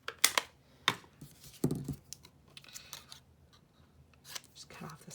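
Scissors snip the edges off a stamped Christmas card in quick, close, crisp cuts, with a voice talking at times between the cuts.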